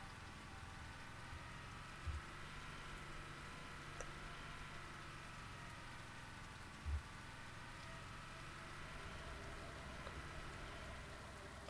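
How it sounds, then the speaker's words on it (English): Steady rain falls in the survival game SurrounDead, a soft continuous hiss spread evenly through the whole stretch with no talking, broken only by two brief low thumps. "It's still raining."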